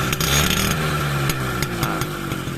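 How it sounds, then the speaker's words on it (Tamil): A 20-year-old TVS Champ moped running, its small engine and exhaust putting out a loud, steady putter with rapid pulsing firing close to the microphone, sustained without pause. "இன்ஜின் நாய்ஸ் அப்படிங்கிறது, எக்ஸாஸ்ட் நாய்ஸ் அப்படிங்கிறது இந்த வண்டியில் நல்லாவே இருக்குது."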